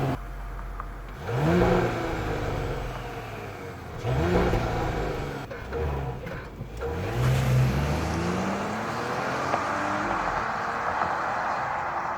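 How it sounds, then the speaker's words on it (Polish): The 3.0 V6 engine of a Volkswagen Touareg R revs up three times in rising sweeps, the somewhat muffled exhaust rumbling low between pulls and settling into a steady idle drone. "silnik ładnie pracuje, wkręcany na obroty i wydech coś tam próbuje lekko brzmieć"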